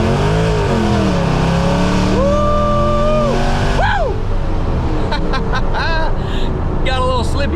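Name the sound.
car accelerating hard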